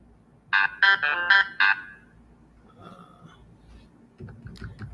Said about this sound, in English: My phone is going nuts.